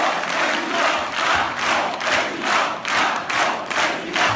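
A large crowd at a Macron campaign event chants "Macron président" in a steady rhythmic cadence, roughly two beats per second, with clapping and cheering blended in, loud and continuous.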